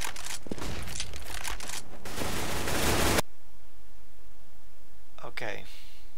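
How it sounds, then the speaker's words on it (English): Flashbang grenade thrown during a CS:GO match: dense bursts of gunfire and clatter give way to a sharp cutoff and near silence, followed by a couple of brief crackling pops; a voice talks over the opening. "Throwing flashbang."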